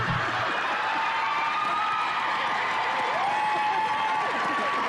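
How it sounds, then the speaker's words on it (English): Studio audience at a comedy show clapping, hooting and hollering steadily, with sustained applause and scattered whoops throughout, moderately distant. "They're clapping, hooting, and hollering, not laughing."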